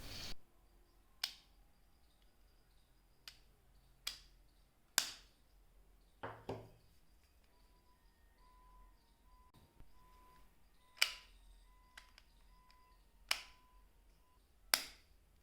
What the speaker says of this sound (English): the clicks sound pretty satisfying, and each click tells something about the quality of the build